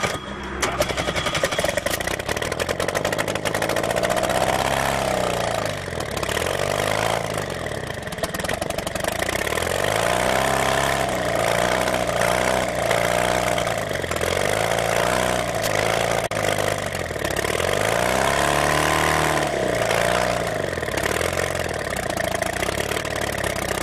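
An experimental Bourke engine runs steadily at close range, a loud, continuous, rough drone with the pitch rising and falling as the throttle is adjusted, all the way through.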